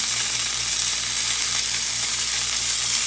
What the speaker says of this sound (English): So now I can sear on the sides to get it done a little bit quicker